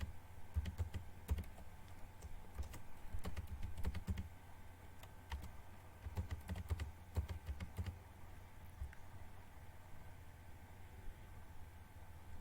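Someone types an email address on a computer keyboard, a steady run of soft, close key taps in bursts with short pauses over a faint background hiss.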